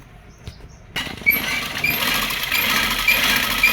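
A sewing machine stitches the strips of a kachera. After a few faint taps comes a steady, close mechanical whirring rattle that runs to the end.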